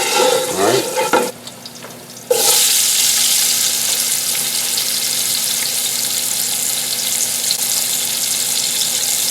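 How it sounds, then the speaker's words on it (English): A pot roast pan being deglazed, a loud steady rush of hissing steam and sizzle that bursts in after a brief scrape and a short quiet gap, then continues strongly to the end. "You want to deglaze that pan because that stuff is flavored."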